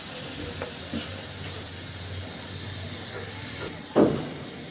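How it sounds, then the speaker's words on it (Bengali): Onions frying in a pan, cooked until deep red and crisp like birista for khichuri, giving a steady soft hiss and sizzle throughout with a brief louder clatter near the end. "পেঁয়াজটা আমি খুব সুন্দর করে লাল লাল করে ভাজি করে নিব"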